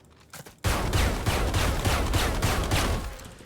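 Rapid burst of gunfire in Valorant, shots fired at a Sage ice wall to break it, a loud steady string of about eight evenly spaced cracks after a brief quiet start, trailing off at the end.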